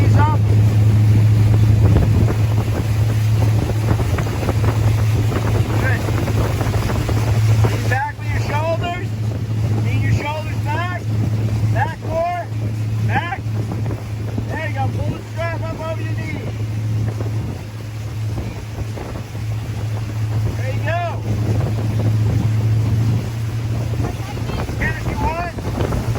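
A motorboat engine drones low and steady beneath buffeting wind as a rider is towed behind the boat, with voices talking and calling over the constant rumble.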